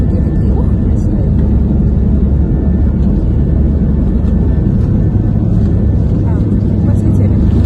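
Airplane taking off on a flight to Cyprus, heard from inside the cabin: a loud, steady low engine roar and rumble fills the whole stretch without letup, with faint voices mixed underneath.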